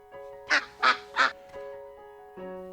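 A mallard family of ducks quacking, three loud, close, evenly spaced quacks followed by fainter calls, over a steady tonal background hum.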